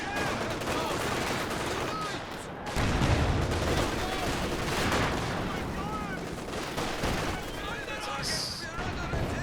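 Dense, continuous gunfire and artillery blasts from the real-time strategy game Company of Heroes 2 in a 2v2 match, loud and relentless, with a heavier boom around the third second, under excited commentary.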